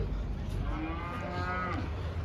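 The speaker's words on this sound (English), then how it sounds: "You got the cows right there." Cows give a couple of drawn-out low moos at moderate distance over faint outdoor background noise.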